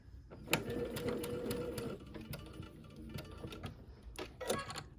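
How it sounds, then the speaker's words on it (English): Sewing machine stitching a quilt, a faint rapid mechanical ticking and whirring with a few sharper clicks, heard close and quiet throughout. "I'm going to go ahead and sew"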